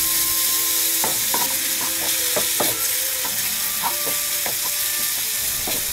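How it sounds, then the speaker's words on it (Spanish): Ground meat frying with onion in a pan for spicy tantanmen ramen, a steady dense sizzle with repeated scraping stirs of a utensil against the pan, close and loud throughout with no talking. "agregamos los 100 gramos de carne molida. Cocinamos y mezclamos con la cebolla."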